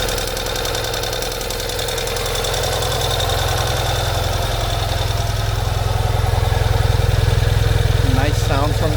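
A Ural Gear Up Heritage Ranger motorcycle, a 2022 model, idles after a cold start with a steady, loud, close-range engine thrum and a knocking exhaust pulse. The sound holds throughout, with brief human noise near the end.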